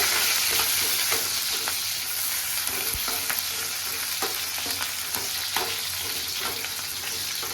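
Onions frying in a pan until reddish for homemade butter chicken: a loud, steady close sizzle with intermittent scraping of stirring throughout, and no one speaking.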